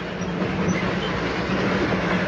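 Darjeeling Himalayan Railway toy train running on its narrow-gauge line, a steady close rumble of wheels and carriages with a low hum, continuous throughout without voices.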